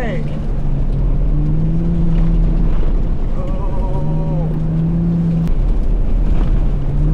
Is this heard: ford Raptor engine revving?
yes